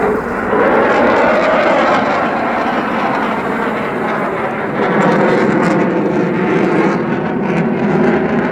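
A Eurofighter Typhoon fighter jet flying an airshow display on the English Riviera, its engine a loud, continuous roar that holds steady as the jet slows through a manoeuvre, with no talk.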